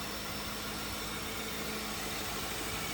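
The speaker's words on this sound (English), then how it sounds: "smooth that V8 runs" A 2004 Lincoln Town Car Ultimate sedan's V8 engine idles smoothly with a steady low rumble and constant hum, recorded close with no talking.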